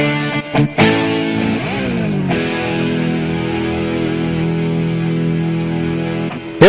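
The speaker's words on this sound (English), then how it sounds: "Or this mega voice distortion guitar" A distortion guitar mega voice from a Yamaha PSR S700 keyboard sounds alone: a few short chord hits, then long gritty sustained notes with a pitch bend and a final accent.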